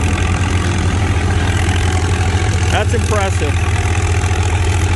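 Farmall 450 tractor engine pulling a heavy frame plow with 16.9-38 tires, a steady low throbbing idle-like drone running loud throughout, with a person speaking briefly over it.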